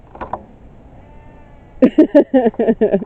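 A sheep on Pendle Hill gives a rapid run of short, loud bleats close by, six or seven in quick succession, after a quieter stretch of faint outdoor noise.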